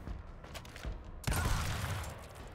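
Gunfire in the turn-based shooter Gears Tactics: a sudden loud burst of shots that cuts in after about a second of quieter game noise, then a lingering rumbling tail.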